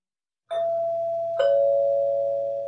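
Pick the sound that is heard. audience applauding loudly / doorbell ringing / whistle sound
doorbell ringing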